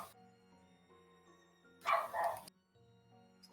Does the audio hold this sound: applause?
no